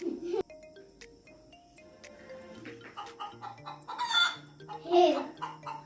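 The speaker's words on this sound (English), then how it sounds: "Hen." A recorded hen clucks and squawks in several short, loud bursts, with a brief crow-like call near the end, over a soft melodic background, played as an animal-sound quiz item.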